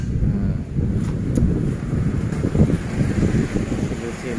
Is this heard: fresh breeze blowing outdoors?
yes